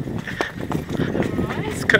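Hooves of a donkey clip-clopping on the stone stairs leading up to the Petra monastery, a run of close, uneven hoof strikes heard under people talking.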